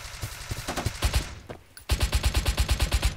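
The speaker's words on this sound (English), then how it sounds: "Hearing gunfire." Rapid bursts of automatic gunfire in a browser video game, quick rhythmic volleys, a short pause, then another sustained burst, loud and close.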